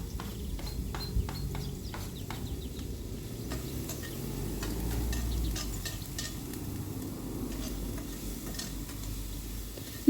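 Thinly sliced onion fries in oil over low heat for an Algerian kebab tajine, giving a steady soft sizzle with occasional light stirring clicks, close and continuous, with no talking.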